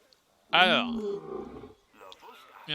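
A lion in the zoo-building game Planet Zoo, a loud, close, drawn-out roaring growl that fades into rumbling, followed by a second softer burst, with no talk over it.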